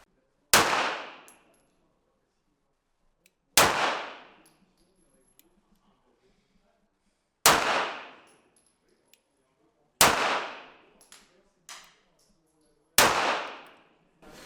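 Five single shots from a Tokarev pistol firing Fiocchi cartridges at a shooting range, each a sharp loud crack with a short decaying ring, spaced about three seconds apart with quiet between.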